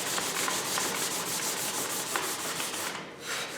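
A wooden guitar neck from a 335-style kit is smoothed by hand with 220 grit sandpaper and no block, making rhythmic back-and-forth rasping strokes that are close and steady and briefly pause near the end.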